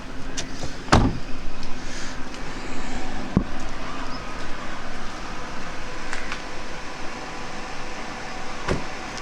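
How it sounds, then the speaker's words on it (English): In the engine bay of a 14-year-old Fiat Palio 1.6, the cooling fan spins with a steady close whoosh, broken by a few sharp knocks. "The fan is still spinning."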